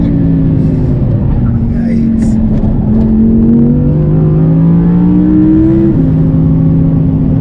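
An Audi R8 accelerates hard on a race track, its engine note holding steady and loud throughout, rising and shifting pitch as it pulls through gears, with a person talking over the constant in-cabin roar.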